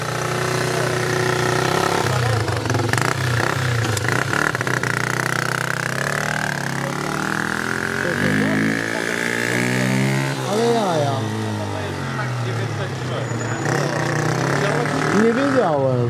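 Beta 350 dirt bike engine starting and settling into a mid-pitched idle with some revving, heard close up under nearly continuous talking.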